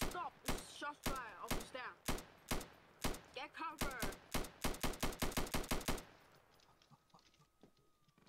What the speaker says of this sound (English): We got heaps of shots fired right now.